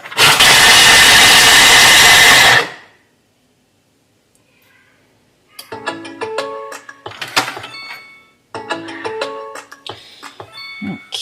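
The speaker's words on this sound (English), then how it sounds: "That was a turbo chop, so it's basically chopped everything up." A Thermomix TM7 runs a turbo chop on vegetables for a yellow curry sauce: a loud, steady whirring roar for about two and a half seconds cuts off abruptly, followed by near silence and then people talking.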